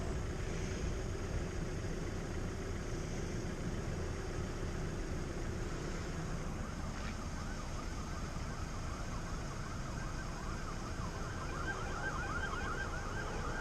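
Police car sirens wailing in the distance on a winter day, a steady cycling whine over a constant low engine and road rumble with no voices.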